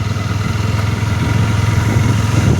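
A motorcycle engine runs steadily close by, a loud low throbbing idle with a fast regular pulse, riding on a rough road, with no voices over it.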